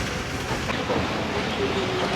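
The Sukkur Express rolls along the rails on its approach to Jacobabad railway station, with a steady, loud clatter and rumble of wagons and a faint wheel squeal over it.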